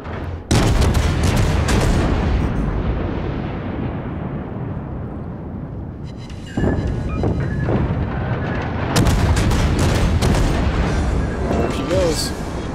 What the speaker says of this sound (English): I think it's so cool when you have all the AA firing like that.